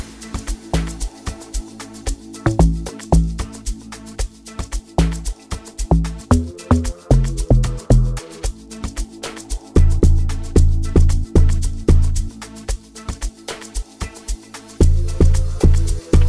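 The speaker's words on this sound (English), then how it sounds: "This part of the song, the log drum I use." An amapiano log drum riff plays alone, with deep, boomy pitched bass hits in a syncopated pattern over steady crisp percussion ticks, loud and close, with no talking.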